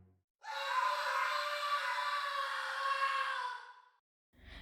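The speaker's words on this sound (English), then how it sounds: "another scream shattered the quiet once more, this one sounding more strained and painful than before" A single long, strained and painful scream holds steady for about three and a half seconds, loud and close, alone against silence.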